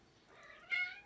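A single short cat meow, rising into a brief higher cry, faint and close.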